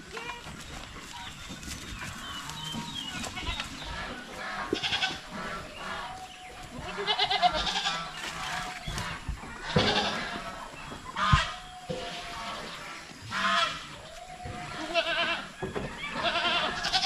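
Goats on a farm bleat in scattered calls, near and fairly loud, over rustling ambient noise, with a voice occasionally audible in the background.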